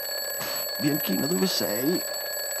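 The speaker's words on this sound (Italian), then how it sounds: "La sveglia, sono le 7." An alarm clock rings in a steady, unbroken tone through the whole scene of a radio drama, while a man calls out over it.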